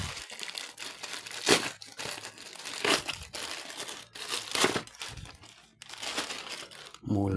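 Packaging crinkles and rustles as a parcel holding an Aneng digital multimeter is opened, steady close crackling of plastic and paper with sharper crunches, over background chatter.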